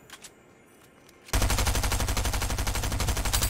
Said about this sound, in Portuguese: Da onde tá vindo esses tiros, velho?